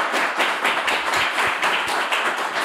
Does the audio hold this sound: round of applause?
yes